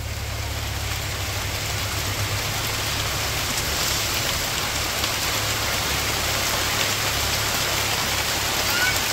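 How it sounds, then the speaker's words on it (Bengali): Heavy rain pours down in a village, a dense, even roar of drops drumming on surfaces, steady and loud throughout, with a low engine-like hum underneath. "কি বৃষ্টি নামলো এতক্ষণ নাই বৃষ্টি"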